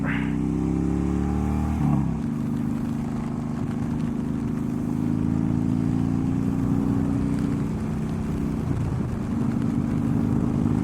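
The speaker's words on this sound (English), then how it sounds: "talking over the wind at 60 miles per hour" A motorcycle cruising at about 60 mph, with a steady engine drone and heavy wind rush that swell after a brief shift near the start, loud and continuous as heard from the rider's helmet.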